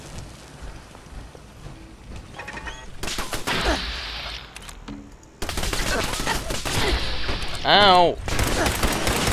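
Gunfire in Fallout 4, with enemies shooting in bursts of sharp cracks amid game sound, while a voice cries out.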